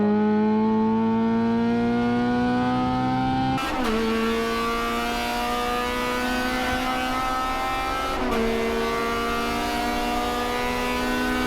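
Race cars roar around a circuit in a racing video game, a loud sustained engine drone with shifting pitch and two sharp gear-change drops as the cars pass along the straight.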